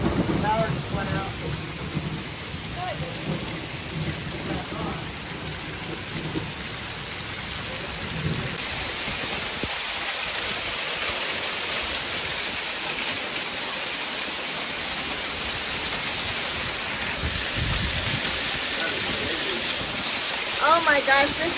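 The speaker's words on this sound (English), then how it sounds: "I've never seen quite such a storm here" Heavy storm rain pours steadily onto surfaces outdoors, with low rumbles of thunder early on and a continuous dense wash throughout; voices speak faintly beneath the downpour.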